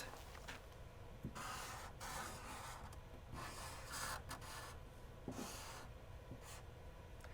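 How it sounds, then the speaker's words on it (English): A marker squeaks and scratches across chart paper in several short, separate strokes with brief gaps between them, faint and close, as a single word is written. "Now I'm going to write this word on chart paper."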